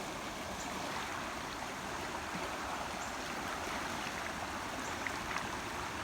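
Floodwater pours steadily through a big pasture after eight inches of rain, a continuous rushing, gurgling flow close by with no talking.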